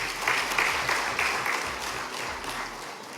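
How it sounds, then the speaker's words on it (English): Audience applause at a ceremony with elected members and distinguished guests, a dense steady wash of many hands clapping at moderate distance for about three seconds, with no talk over it. "Let's give another round of applause."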